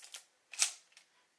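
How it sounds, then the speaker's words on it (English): A quick mechanical shutter click from a Pentax 6x7 medium format film camera, with a short whirring release, followed by a faint second tick; crisp and close, no voices. "Let's listen to the shutter."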